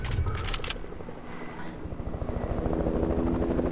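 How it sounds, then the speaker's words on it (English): A helicopter hovers close overhead in a video game, its rotor chopping as a steady rhythmic low thumping under a wash of ambient game noise and a few thin high chirps. "Oh god, there's a helicopter on me"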